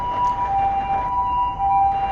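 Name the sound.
emergency vehicle siren approaching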